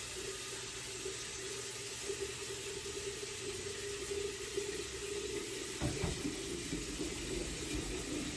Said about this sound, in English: We're going to get some more hot water started in the kettle.